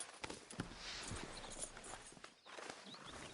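Horse hooves clip-clop at a walk in the Red Dead Redemption 2 video game, steady uneven footfalls close by over a soft ambient bed, with no talk.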